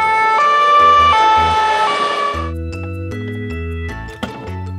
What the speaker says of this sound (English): White ambulance.